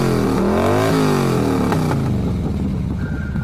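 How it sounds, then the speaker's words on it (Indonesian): A motorcycle engine rumbles close and loud, its pitch sweeping up and down as it revs, then settling to a steady idle as it comes to a stop. "mendengar suara sepeda motor berhenti di halaman"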